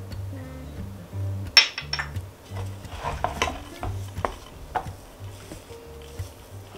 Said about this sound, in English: So mixing this gives your arm a real workout.